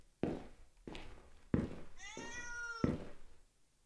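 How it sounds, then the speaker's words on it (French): A cat in a quiet Japanese street gives one clear, wavering meow, framed by several dull thuds and footstep-like knocks nearby. "Un chat. Il y a un chat."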